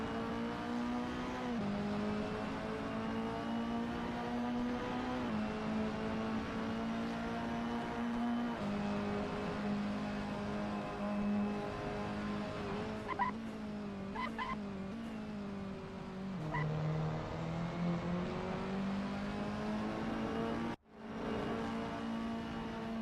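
A John Cooper Works Mini Challenge race car warms its tires before qualifying, its engine droning in a sustained, fairly distant tone that rises and falls in pitch. A brief scrubbing squeal comes near the end, followed by a sudden cut.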